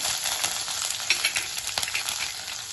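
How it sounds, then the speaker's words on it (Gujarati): Curry leaves and chillies hit hot oil where cumin and mustard seeds have already crackled, while making poha, giving a close, continuous sizzle with scattered sharp pops and spits. "જીરું ને રાઈ તતડી ગયા પછી જે આપણે લીમડો ને મરચાં છે એ એડ કરી દઈશું"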